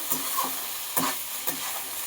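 Potato, eggplant and cauliflower greens with turmeric and chili powder are stirred in a hot wok, three distinct scraping spatula strokes over a constant soft sizzle.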